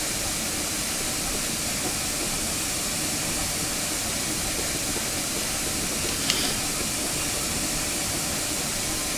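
A GWR Saint steam locomotive in Train Simulator arrives at a platform with a constant broad hiss of steam and rolling noise, steady and unbroken, with one faint metallic tick partway through.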